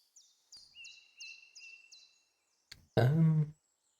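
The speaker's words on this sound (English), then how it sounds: "How loud is the bird chirping for you?" In the video game NORCO, a bird chirps in a short series of high, repeated whistled notes, fairly soft and close, followed by a brief burst of a person's speech at the end.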